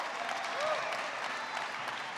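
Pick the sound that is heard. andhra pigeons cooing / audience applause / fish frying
audience applause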